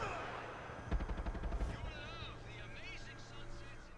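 Gunfire in Far Cry 6, a rapid burst of close shots in the middle of the clip, followed by quieter game sounds and voices.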